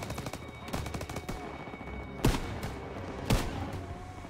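Close, sharp gunshots crack in a Call of Duty: WWII firefight: an opening flurry of rapid shots followed by two heavy, booming single reports about a second apart over a low battle rumble.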